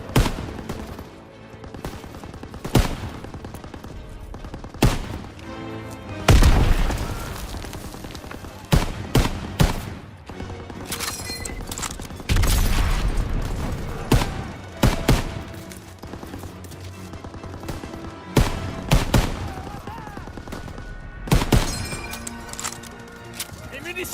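Machine gun bursts and single rifle shots from a WW2 video game campaign, sharp repeated cracks and booms spaced across the clip, some loud and close, mixed with voices talking over the gunfire.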